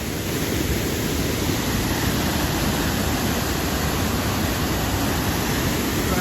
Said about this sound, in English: There's nobody here. 6 tons waterfall.